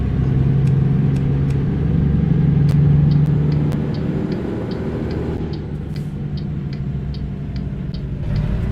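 Engine drone of a brand new truck in perfect mechanical condition cruising in American Truck Simulator, a steady low hum with a faint regular ticking, no voices.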